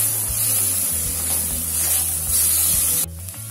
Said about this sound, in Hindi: अभी डाल देते हैं हम इसमें अदरक, मिर्ची और लहसुन का पेस्ट।